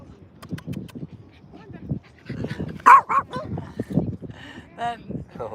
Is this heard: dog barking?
yes